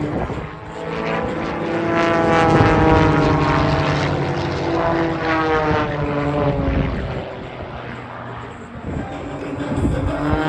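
Formation of propeller aircraft flying overhead at the Australian International Airshow 2023, a loud sustained engine drone with beating, wavering tones that swell and fade slightly as the planes pass.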